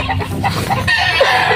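A chicken clucks several times up close in a short burst, with a few choppy, throaty notes and no talking.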